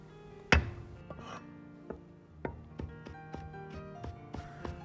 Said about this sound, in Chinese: 把大蒜和生姜先拍破